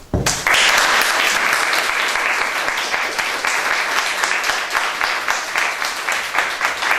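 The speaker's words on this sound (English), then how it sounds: "I want you to give a round of applause for شهرانی" Audience at a lecture in Gothenburg bursts into loud, sustained applause that starts abruptly and keeps an even, dense clapping texture to the end, without speech.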